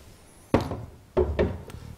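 A water tank from a Hoover Aquavision tumble dryer is pushed back into the door, making a sharp plastic knock followed by two more firm clicking thunks up close, in a quiet room.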